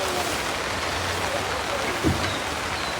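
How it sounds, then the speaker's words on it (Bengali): Light rain, the first of the year, makes a steady, soft, even patter and hiss throughout, with one faint bump near the end. "বছরের প্রথম বৃষ্টি হইলো, তাও আপনার বৃষ্টির কোনো ই নাই, সাইজ নাই, একটু একটু বৃষ্টি"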